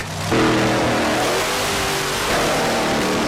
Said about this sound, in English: The monster truck is very loud.